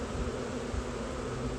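Honey bees signaling inside a swarm box, a dense, continuous close buzzing hum from many bees, steady throughout with no talking.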